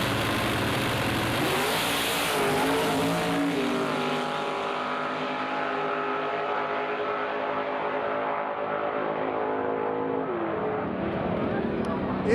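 An alcohol-injected 660 Ford-powered Cougar drag racing a Toyota pickup with a big-block Chevy on single-stage nitrous at Great Lakes Dragaway: a sustained, roaring high-revving engine drone with rising harmonics, loud and continuous throughout.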